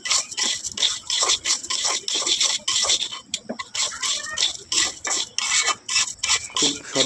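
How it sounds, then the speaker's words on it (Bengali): Beef biryani base of green chili, cinnamon and cardamom being fried with a little salt, heard as a busy run of rhythmic spatula scrapes and metallic clatter against the pot over a crackling sizzle, close and loud, no voices. "সুন্দর করে এখন ভেজে নিচ্ছি"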